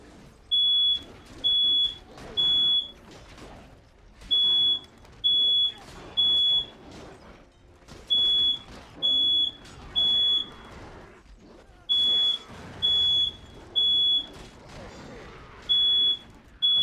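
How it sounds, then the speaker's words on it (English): A smoke detector alarm beeps in repeated groups of three shrill tones with short gaps, loud over quieter battle sounds from the strategy game The Lord of the Rings: The Battle for Middle Earth. "I didn't even realize the smoke detector is going off."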